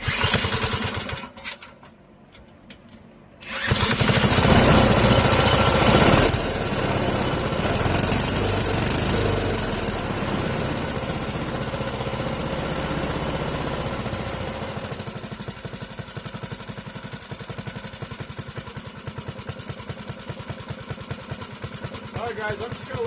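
A Clinton model 3100 small engine putters at idle on half choke, a loud, close, uneven chugging that runs on after a short quiet start, with someone talking over it.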